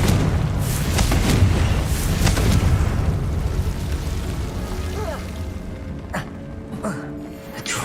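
Confringo blasting spell fired in Hogwarts Legacy during a fight with a herbologist, a loud rumbling explosion at the start that decays into a lingering roar, followed by a few sharper pops and faint voice-like sounds.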